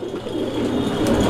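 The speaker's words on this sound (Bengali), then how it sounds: "আমরা এই মুহূর্তে দেখতে পাচ্ছি এখানে আরো এক জোড়া কবুতর আছে।" Pigeons coo softly at a bird seller's stall, a brief low murmuring call close by over faint background noise.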